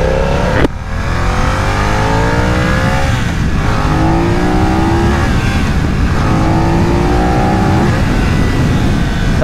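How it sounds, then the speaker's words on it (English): A BMW F900R motorcycle accelerating hard at wide open throttle, its engine note climbing loudly through repeated rising sweeps as it pulls up through the gears, close and continuous with no talk. "That was wide open throttle for you guys."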